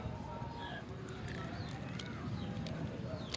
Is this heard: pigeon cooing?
yes